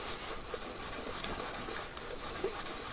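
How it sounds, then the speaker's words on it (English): Fine-grit 1600 abrasive paper rubbing across a platinum jewelry casting, a soft, steady scratchy rasp with slight strokes, close and quiet, no voices. "1600 paper, which almost polishes it."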